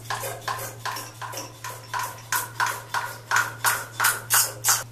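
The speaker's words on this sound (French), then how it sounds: "J'actionne plusieurs fois la seringue." A double-barrel veterinary syringe for piglet vaccination, its two vials filled with dish soap and hot water, is pumped repeatedly, giving a steady rhythm of about a dozen close squelching, sucking strokes over a low constant hum.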